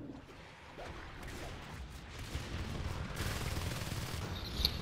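Bursts of shotgun and other gunfire in a sci-fi shooter match, a dense, rumbling volley that grows louder in the second half, heard at a distance amid busy battle noise.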